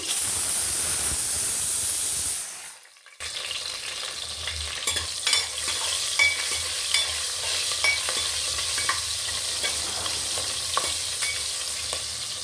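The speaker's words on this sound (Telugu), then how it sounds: "పచ్చిమిరపకాయలు కూడా వేగిపోయాయి" Green chillies fry in a sambar tempering of oil with mustard, cumin and asafoetida, a loud, close, continuous sizzle with frequent small crackles after a brief dip in sound.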